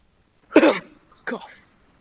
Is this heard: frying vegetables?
no